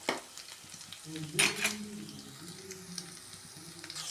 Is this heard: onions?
yes